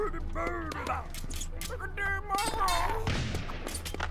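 Musket volleys in the battle game TABS, a scattered burst of game gunfire with thumps and booms beneath an excited voice talking over the action.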